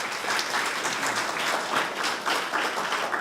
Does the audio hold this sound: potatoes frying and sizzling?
no